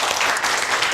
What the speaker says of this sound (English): Please join me in a round warm of applause for Brett Morris.